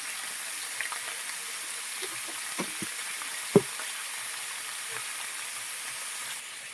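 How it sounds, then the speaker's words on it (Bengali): Potato pieces frying in hot oil with salt and turmeric hiss in a soft, steady sizzle, broken by a few light clicks and one sharper knock of a spoon. "আলুটাকে লাল লাল করে ভেজে নেব।"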